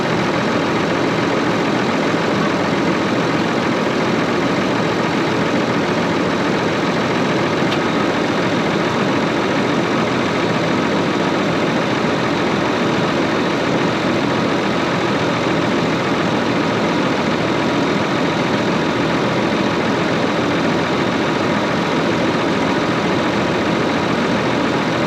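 A tractor engine idles steadily and loudly for the whole stretch, a constant dense rumble with no breaks or voices, on a farm during cotton harvest.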